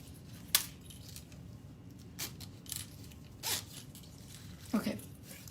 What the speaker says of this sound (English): Zipper pull's on.